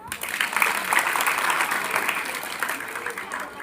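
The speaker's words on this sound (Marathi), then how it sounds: "मग आता तुमच्यासाठी स्वतःसाठी पहिल्यांदा एकदा टाळ्या आहे" A roomful of students clapping together at a career guidance session, heard as a dense, steady burst of applause that carries through the whole stretch and eases slightly near the end.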